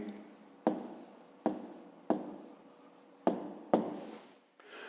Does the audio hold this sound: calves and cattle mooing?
no